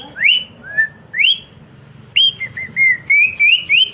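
A boy whistles an imitation of a magpie robin (murai), giving rising chirps and a run of bright, warbling phrases that are loud and close, with no talk.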